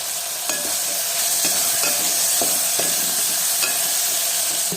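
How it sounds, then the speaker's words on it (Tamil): Steady sizzling of spices and chili powder frying in a pan with periodic stirring scrapes, close and continuous, no voices. "எல்லாமே வதக்கிக்கலாம்."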